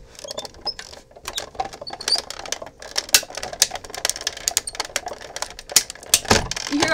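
A Cuttlebug die-cutting machine runs a card through its plates with rapid, irregular cracks, clicks and dings, a busy patter of sharp mechanical snaps close by and heard alone.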